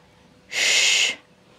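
A single sharp, breathy exhale lasting about half a second, forced out by a person lifting dumbbells during an at-home upper-body strength workout, close and loud against a quiet background.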